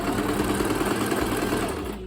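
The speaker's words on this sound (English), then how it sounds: "you turn the hand wheel so you can put the needle down on the points" A sewing machine runs steadily and close, stitching fabric toward a point with a continuous whirring hum that eases off slightly at the end.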